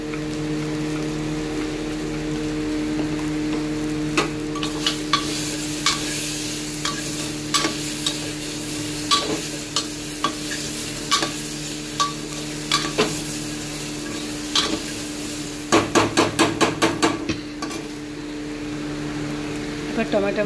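Crushed ginger and garlic with turmeric sizzle steadily in hot oil, with a run of sharp spoon or spatula scrapes and taps against the pan, including a quick cluster of stirring knocks near the end.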